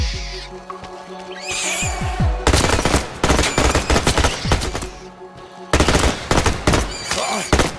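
Bursts of gunfire from a post-apocalyptic video game, loud rapid volleys of shots in two long stretches, with a quieter ambient opening of drones and faint calls before the firing starts.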